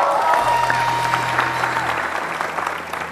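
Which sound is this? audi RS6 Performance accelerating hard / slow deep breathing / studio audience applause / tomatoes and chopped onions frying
studio audience applause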